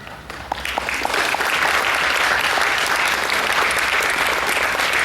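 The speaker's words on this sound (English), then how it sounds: "please stand up and let us give you a round of applause." An audience at a Dickie Chapelle program gives sustained applause honoring veterans in the crowd. The clapping is dense and steady, building quickly after a quiet start and holding loud through the end.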